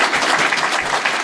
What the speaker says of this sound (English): so you get a round of applause for that.